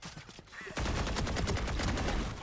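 Sustained rapid automatic gunfire in the Valorant first-person shooter, opening with a few scattered shots and then a dense, loud burst of continuous rounds for nearly two seconds.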